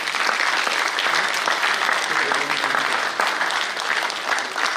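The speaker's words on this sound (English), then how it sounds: "Give a huge applause to him." A large audience claps for Professor Martin Bean, Vice Chancellor of RMIT University, in dense, sustained applause at an even level throughout.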